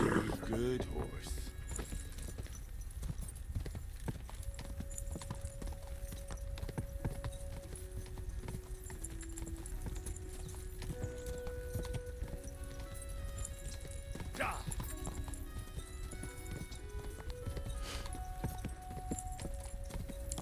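Steady rhythmic clip-clop of horse hooves in the video game Kingdom Come: Deliverance 2, with soft background tones and occasional faint sounds over the trotting.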